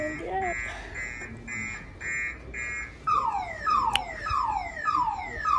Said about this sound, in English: It's just the alarm went off now.